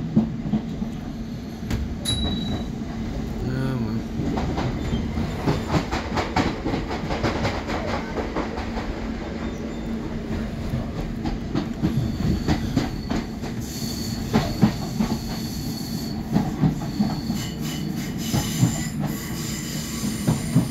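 A train running on rails on a trip toward Coulsdon South Station, with a steady rumble, rhythmic wheel clatter and occasional squeals close by for the whole stretch.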